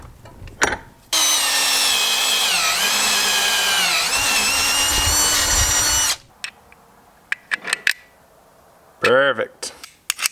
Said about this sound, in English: 3/8 drill bit worked perfect for the studs on this to include the threads.